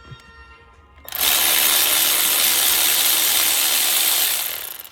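A ratchet backs out the last top-side transmission bolt during engine removal on an Infiniti Q50 Red Sport, a loud, close, continuous rattling buzz lasting about four seconds before tapering off.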